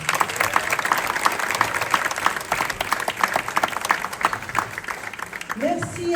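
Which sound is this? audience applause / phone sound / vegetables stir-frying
audience applause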